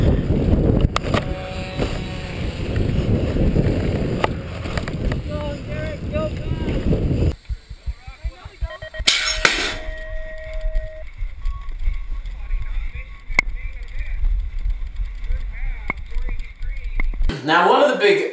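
BMX bike ride around a track filmed with a chest-mounted GoPro, with rushing wind buffeting and rolling tire rumble that cut out abruptly and then return more sparsely, with someone speaking over much of it.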